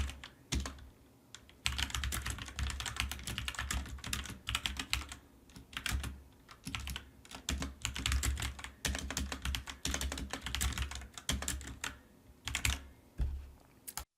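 Steady typing on a computer keyboard while writing a compliment into a feedback form, a continuous quiet patter of key clicks with brief pauses and no talking.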